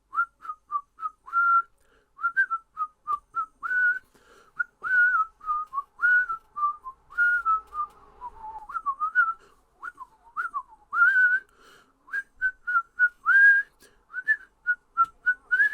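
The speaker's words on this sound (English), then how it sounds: "So much whistling in this film." Someone whistles a bouncy, melodic tune in short clear notes, solo and close, with brief pauses between phrases, from the 1937 film Snow White and the Seven Dwarfs.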